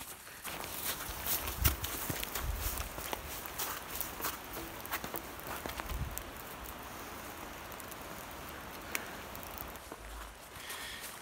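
Footsteps crunch in snow on a hiking trail climbing Springer Mountain, an irregular tread of soft thuds and crunches at close range, fairly quiet, with no talking.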